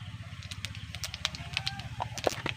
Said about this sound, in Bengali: তেল গরম হয়ে গেছে এবার দিয়ে দিচ্ছি পাঁচ ফোড়ন